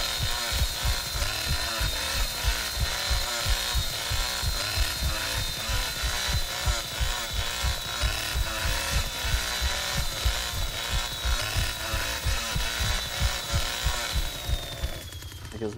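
A chainsaw drones in the Texas Chain Saw Massacre game with a steady, sustained whine and rhythmic pulsing thuds underneath, loud and continuous for about fifteen seconds before it fades out.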